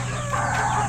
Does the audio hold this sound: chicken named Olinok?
yes